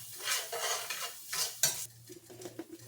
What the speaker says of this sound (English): Mix that up until the onions are sauteed up real good.